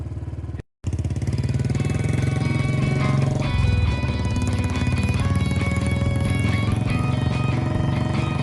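A motorcycle engine runs with a steady mechanical chug close by, cutting out for a moment then continuing evenly with no talk over it.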